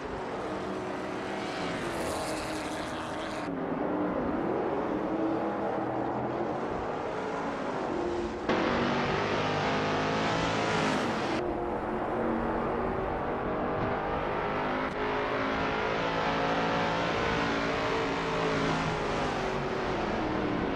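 Race cars in a racing video game driven by bot opponents, engines droning and rising in pitch steadily throughout, with dense whining engine tones and shifting revs, no voices.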